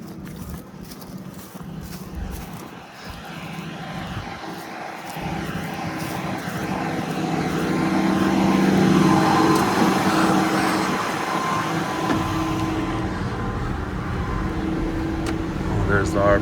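A tractor throttles up to spin the air seeder fan while readying to seed durum: a steady, loud engine and fan drone that swells around the middle and stays high, with people talking over it.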